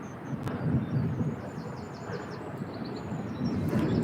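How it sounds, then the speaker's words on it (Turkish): Thunder rolls low and steady outdoors ahead of rain, a continuous dull rumble with faint bird chirps above it and no voices. "Evet gök gürültüsünü duyuyorsunuz değil mi arkadaşlar?"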